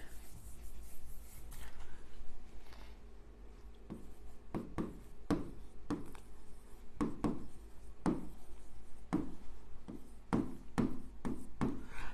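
Chalk strokes tap and scrape across a classroom board during a compound-interest math lesson, coming in quick irregular bursts that speed up toward the end, with low room hum underneath.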